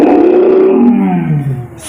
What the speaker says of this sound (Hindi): शेर डाला देखो